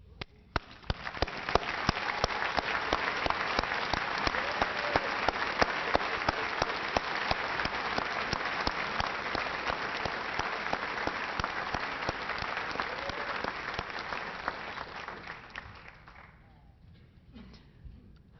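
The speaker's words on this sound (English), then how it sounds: "please join me in giving a thunderous round of applause for these remarkable professionals" A large audience at an awards ceremony breaks into loud, sustained applause. Dense clapping builds within a second, holds strong for about fourteen seconds, then thins out and fades away near the end.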